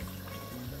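Water poured into a pot of rice and meat cooking with beans, a brief steady trickle and splash heard close up.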